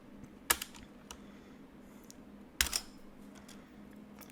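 A computer keyboard is tapped in two sharp bursts of keystrokes a couple of seconds apart, with softer scattered clicks between, close and fairly quiet.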